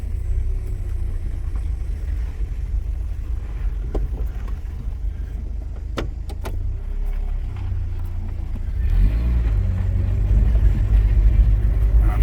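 A car with a suspected sensor or throttle body fault drives on a test ride, heard from inside as a steady low engine and road rumble that swells louder toward the end, with a few light clicks and knocks.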